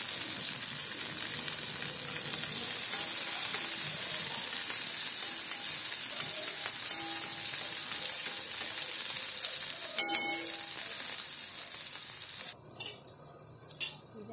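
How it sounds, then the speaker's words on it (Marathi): Onion and spices fry in oil in a kadhai while being stirred, a steady close sizzle with a few scraping clinks of the utensil near the end, no talk. "व्यवस्थित तेलामध्ये मिक्स करून घ्या कढईच्या सहाय्याने"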